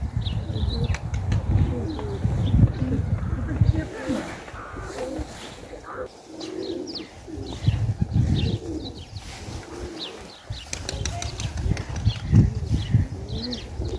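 Tumbler pigeons coo repeatedly nearby, with bursts of wing flapping and rustling; a voice talks at times, and distant background noise continues.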